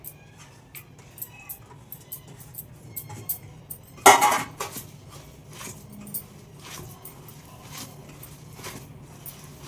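Ash gourd batter being mixed by hand in a bowl, with soft squelching and scattered clinks of the bowl throughout, plus one louder knock partway through.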